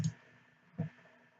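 Two quick, crisp mouse clicks about a second apart, a close double click on a computer to open a Setup.exe installer, with a faint steady hum behind them.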